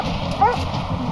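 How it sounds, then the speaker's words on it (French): A police canine unit dog on a car search gives one short, sharp bark over steady background noise. "Le chien de la brigade canine entre en action et quand il aboie"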